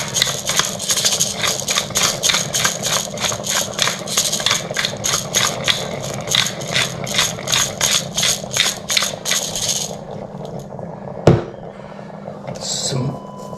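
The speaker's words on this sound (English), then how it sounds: "This grinder's not very good, so this takes a little while." A manual pepper grinder cracks peppercorns in a fast, regular series of gritty rasping turns for about ten seconds, close and fairly loud, then stops, leaving a faint background hum and a single sharp knock.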